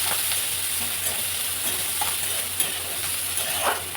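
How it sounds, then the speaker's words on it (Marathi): A tempering of cumin, mustard seeds, a little turmeric, onion, chili and curry leaves sizzles in hot oil, a continuous bright frying hiss with occasional soft stirring knocks, steady and close. "जिरे मोहरी, थोडीशी हळद आणि कांदा आणि मिरची, कढीपत्ता छान असं मिक्स करून घ्यायचं."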